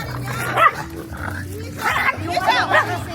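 Dogs bark and snarl in short bursts at a cafe birthday party, a scuffle of yips and growls, with people talking over the commotion.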